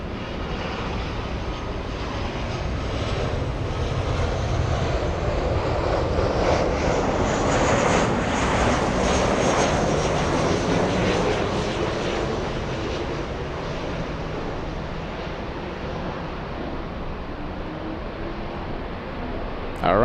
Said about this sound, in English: 757 on the move. Smoky takeoff.